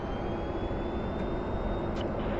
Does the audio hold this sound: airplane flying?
yes